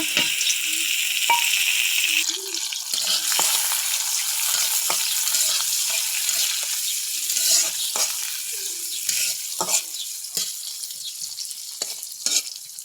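Sliced onions and green chilies fry in hot oil in a pan, a bright continuous sizzle broken by repeated scraping and clacking stir strokes, close and fairly loud, with no talking.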